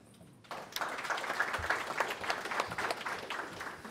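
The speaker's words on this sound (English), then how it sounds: "give them a round of applause" A sudden burst of steady audience applause at a panel event on artificial intelligence, starting after a half-second of quiet and continuing evenly at moderate volume, heard from a distance within the hall.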